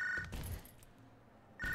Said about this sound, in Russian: Блядь, тот самый телефон звонит или что?